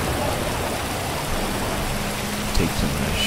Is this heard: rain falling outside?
yes